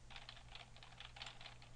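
Computer keyboard being typed on while entering Python code for a GTK interface: quiet, steady, rapid key clicks with no voice.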